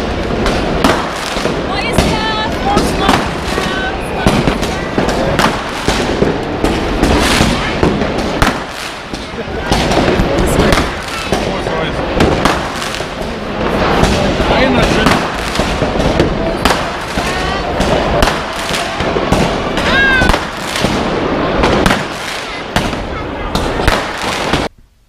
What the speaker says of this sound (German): Schreckt mir alle eure Knaller entgegen.